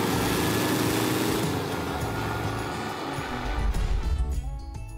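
A VW Beetle 1200 Convertible's air-cooled engine drones loudly at speed, easing off briefly before a deeper, rougher rumble builds up again toward the end, with no talking.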